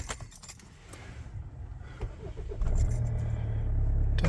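Keys jingle briefly, then a car engine cranks and catches around midway, settling into a steady low idle rumble.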